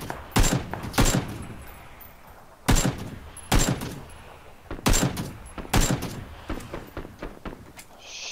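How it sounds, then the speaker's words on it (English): Sniper rifle fire in the video game PUBG Battlegrounds: a string of about nine sharp, loud shots at irregular intervals, each a hard crack with a short tail, with no talk over them. "Somebody's sniping me."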